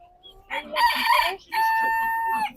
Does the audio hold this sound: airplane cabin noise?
no